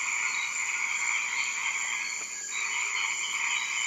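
Frogs croaking in the Amazon rainforest, a dense, steady chorus of high trilling calls layered in continuous bands, loud and unbroken throughout with no voices.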